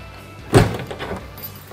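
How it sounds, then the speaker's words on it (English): An XL dog wash trailer door is shut with one solid, close thunk, followed a moment later by a softer knock. "Slide the clip in, shut the door, whoops, shut the door."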